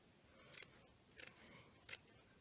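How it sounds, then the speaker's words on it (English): Scissors cutting fabric along a sleeve hem beside a crochet section: three short, crisp snips spaced about half a second apart, close and quiet. "So I'm just going to cut along there"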